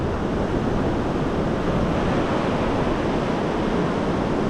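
Surf rolls in at a quiet beach in Mazatlán, a dense, steady wash of waves mixed with wind buffeting the microphone, loud and continuous, with no voices.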